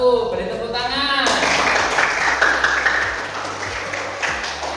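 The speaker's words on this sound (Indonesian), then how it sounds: "Beri tepuk tangan." A school class claps for a student group after its presentation. A voice comes first, then a dense burst of applause rises and holds steady and fairly loud until the end.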